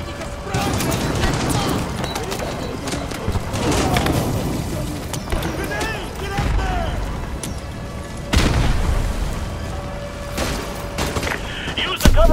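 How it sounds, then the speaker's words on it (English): Combat din in the Call of Duty Modern Warfare 2 campaign as a smoke grenade is thrown at a BTR, with bursts of gunfire, thumping booms and running footsteps. Voices talk over the steady battle noise. "Throw a smoke grenade on that BTR."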